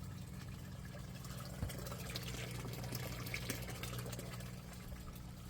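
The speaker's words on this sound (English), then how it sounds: "Water comes in, it fills up, the bell siphon dumps the water automatically." Water runs steadily into an aquaponics grow bed, a soft continuous trickling and filling sound with a low hum underneath, heard alone at low volume.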